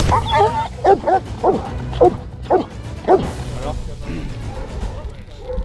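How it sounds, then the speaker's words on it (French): A dog barks repeatedly in sharp bursts, close by, mixed with yips, over steady background noise. "avoir un chien comme ça qui vous saute dessus en aboyant"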